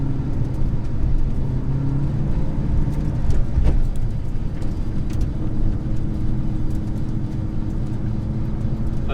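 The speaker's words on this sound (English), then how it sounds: "I'm friggin' driving a 2000 Cobra R." A 2000 Ford Mustang Cobra R on the road, a steady close engine drone with low rumble and road noise, swelling briefly midway as the throttle opens, with no voices.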